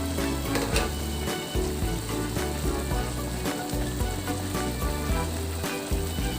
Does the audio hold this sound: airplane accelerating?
no